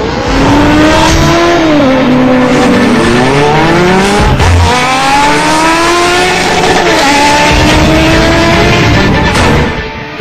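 Motorcycles racing along Delhi roads near India Gate, engines loud and continuous with rising and falling pitch sweeps as bikes accelerate and pass close by, a steady roar throughout.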